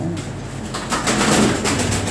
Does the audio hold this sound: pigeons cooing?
yes